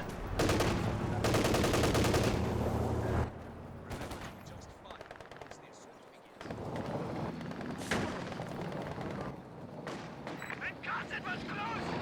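Machine gun bursts and rifle fire in a Company of Heroes 2 3v3 battle, dense rattling volleys and booms throughout, with a commentator talking over them.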